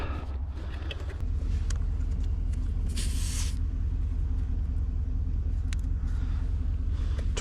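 A small portable air compressor runs outdoors in winter with a steady low rumbling drone and occasional brief hissy bursts, moderately loud and continuous with no talking.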